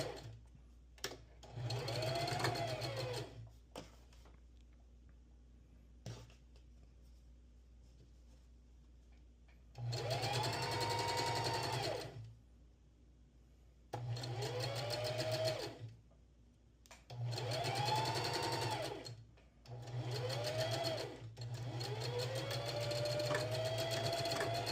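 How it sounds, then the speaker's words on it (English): A sewing machine stitches a quarter-inch seam on a thrifted jacket being upcycled, running in several loud whirring bursts of a few seconds each, separated by quiet pauses. "I'm just going to sew with a 1/4 inch seam allowance."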